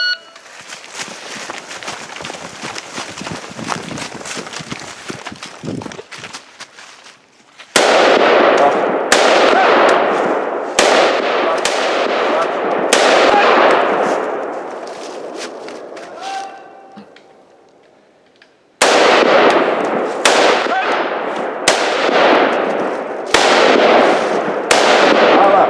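Rifle shots ring out in loud, sharp bursts at an outdoor shooting competition stage at a rod and gun club, several rapid reports echoing in close succession, first under crowd noise and then in two clustered volleys separated by a brief quiet gap.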